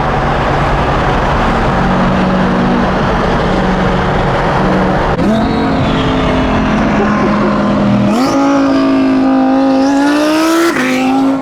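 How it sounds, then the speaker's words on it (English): A powerful twin-turbo Audi R8 engine revs up loudly, its pitch climbing in several surges with sharp throttle blips, close and dominant throughout. "I love the way this car sounds."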